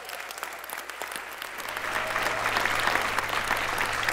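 Audience applause at the 2015 Global Awards Show as celebrity film jurors are introduced, a dense steady wash of clapping from a large crowd that swells louder after the first couple of seconds and continues throughout.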